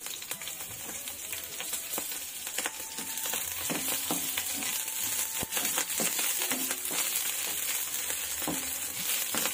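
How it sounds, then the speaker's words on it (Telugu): Green chilli pieces frying in hot oil for a Telugu ivy gourd and tomato roti pachadi, a steady close sizzle with scattered pops and crackles throughout. "ఆయిల్ వేడి ఎక్కాక పచ్చిమిరపకాయ ముక్కలు వేసుకోవాలండి"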